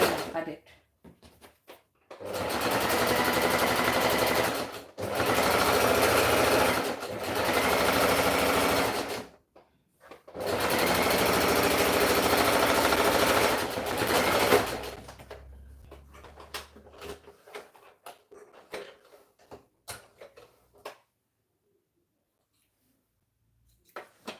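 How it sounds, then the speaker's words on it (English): Sewing machine stitching a shirt side seam, several loud close whirring bursts of a few seconds each with short pauses between, followed by quieter handling clicks and fabric rustle. "I'm going to stitch the side seam by half an inch."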